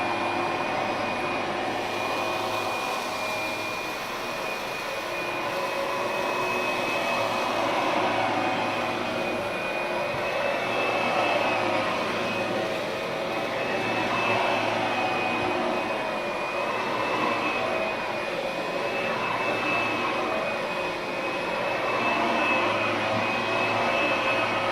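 An Oreck Magnesium RS lightweight upright vacuum cleaner runs on high speed, giving a steady, loud motor whine with a sustained high tone and even airflow roar throughout, nothing else heard.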